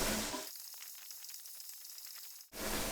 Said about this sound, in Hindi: 1 मिनट के लिए इसको दोबारा फ्राई किया ताकि मिर्चों का कच्चापन ख़त्म हो जाए